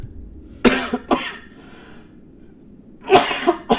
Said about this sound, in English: I've had a cough for like a week.